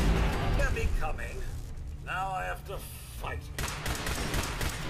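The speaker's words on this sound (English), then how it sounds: "So I can start firing at this one." Gunfire aimed at a Mr. Handy robot in Fallout 4, a dense run of loud shots and mechanical clatter that continues through the clip, with a voice speaking partway through.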